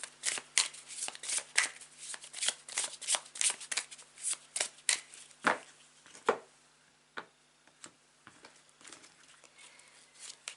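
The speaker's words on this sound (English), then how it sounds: "whilst I shuffle the cards" Tarot cards are shuffled by hand close up in quick, crisp riffles and slaps that come in uneven bursts, then slow to a few scattered taps.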